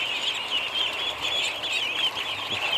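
A flock of ducks in a yard keeps up a continuous chorus of overlapping quacks and calls, fairly close and steady, with no talking over them.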